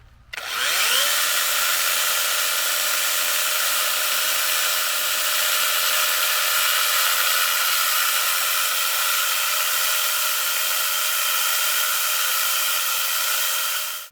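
A DeWalt cordless mini chainsaw revs up and runs steadily at high speed cutting wood, loud and close, with a constant buzzing whine throughout.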